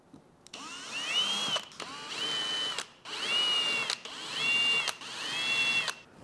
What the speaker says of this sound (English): I'm using this bevel bit or bevel drill thingy to round out the edge